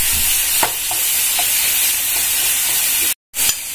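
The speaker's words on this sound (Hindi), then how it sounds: "अब हम इसमें ग्रेटेड टोमेटो डाल देंगे" Grated tomato sautéing in a pan while cooking a spiced taro and potato dish, giving a steady close sizzle and hiss with a few soft stirring clinks and one brief dropout near the end.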